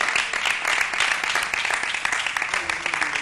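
A studio audience at a comedy show claps in a dense, lively burst of applause that carries on steadily from start to finish.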